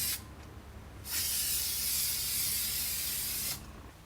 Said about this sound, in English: Spray both surfaces just to get a better stick.